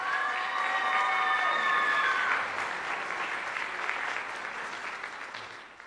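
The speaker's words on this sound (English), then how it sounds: "Give a round of applause for live music" A live music audience claps and cheers loudly, with a brief musical tone fading at the start, then the applause gradually thins and dies away.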